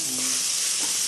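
Fish frying in a pan with mustard, ridge gourd and tomato over a low flame, giving a steady soft sizzle and hiss that runs unbroken for about a second with no talking.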